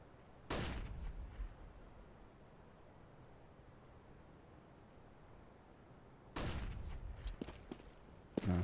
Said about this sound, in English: Mutt missing every shot with that USP.